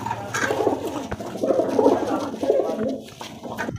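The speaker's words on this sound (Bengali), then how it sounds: "দেখো উপরে অনেক পায়রা আছে" Pigeons, high-flying Kalsira Madrasi kabutar, coo repeatedly overhead in a low, rolling murmur, several overlapping calls close by and fairly loud, with no talking.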